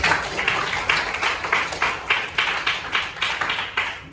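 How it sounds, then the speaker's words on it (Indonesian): A classroom of people claps in loose rhythmic bursts, fairly close and steady, applauding together for a few seconds. "berikan tepuk tangan"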